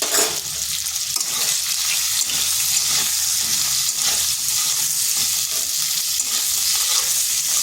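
Cut potatoes with salt fry in a pan of oil over slow to medium heat, a continuous close sizzle with a soft bubbling texture and no voices.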